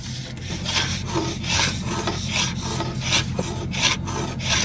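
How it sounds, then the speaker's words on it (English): Rhythmic rasping strokes of sandpaper on wood, repeating steadily about every half second, close and fairly loud, with no talking. "We're sanding"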